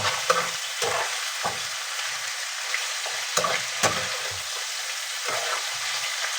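Chicken curry frying in a pan is stirred with a spoon, producing a bright, close sizzle broken by repeated scraping strokes at an irregular rhythm, with no talking.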